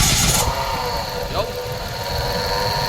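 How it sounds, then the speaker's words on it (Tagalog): A Mitsubishi Mirage with only 26,000 km on it, engine started and running with an abnormal noise, a steady idling drone with a brief burst at the start and a short shout over it. "bigla na lang umingay ang kanyang makina habang nasa biyahe siya"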